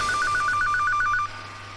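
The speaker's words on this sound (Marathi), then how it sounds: "अरे फोन वाजायला लागलाय" A telephone rings in a fast electronic trill, one short burst of repeated chirps that stops abruptly, loud and alone against low room hum, in a Marathi film scene.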